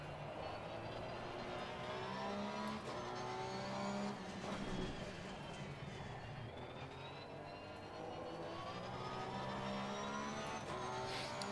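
Porsche 991 II GT3-R race car engine in Assetto Corsa Competizione, loud and continuous, with revs climbing and dropping through gear changes across a lap and no talking.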